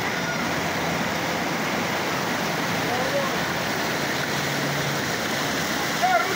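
Water rushes steadily in a broad, continuous roar, rain floodwater in Jamaica pouring through a shop close by, with no pauses.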